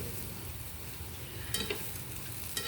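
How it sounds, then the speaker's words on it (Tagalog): Food frying in a home kitchen pan for dinner, a quiet steady sizzle with a couple of brief louder crackles or stirring clatters near the end. "Pinagpiprito ko sila ng ganito."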